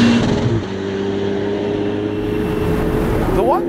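A Ferrari F8 Spider with a particulate filter cruises along, its engine a steady, fairly subdued drone with a brief rising rev near the end, heard from inside the car.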